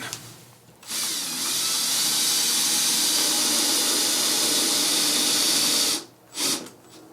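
A power drill drives a fastener while mounting a drapery rod bracket, a close, loud continuous whirring that holds steady for about five seconds and then stops, followed by a short second burst.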